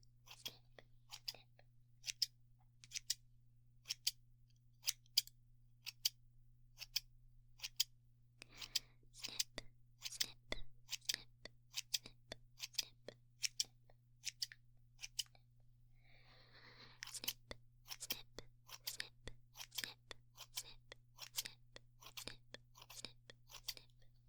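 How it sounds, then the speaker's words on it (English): Rapid, crisp scissor snips repeat in a steady rhythm, close and clear, with a brief pause and a softer rustle partway through. "I think these scissors are getting old."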